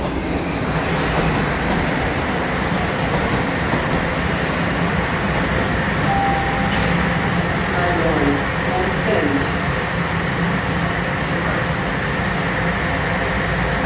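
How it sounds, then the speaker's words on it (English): Trains pass through downtown Toronto in the evening, making a continuous loud rumble and roar that fills the whole stretch, with a voice faintly underneath. "As these trains rudely interrupt me"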